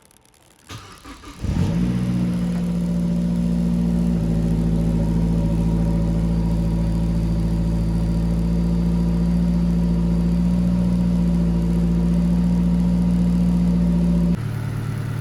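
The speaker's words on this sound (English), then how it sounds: "Just idle and listen and make sure everything sounds good before you go and thrash it." Mazdaspeed 3 (Axela MPS) engine starting up after new spark plugs and a serpentine belt replacement, then settling into a steady, even idle heard close up, alone, with no talking.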